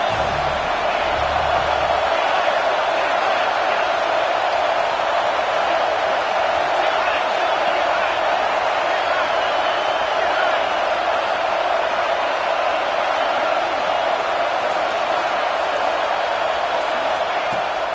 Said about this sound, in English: The house of loud is deafening on this third down.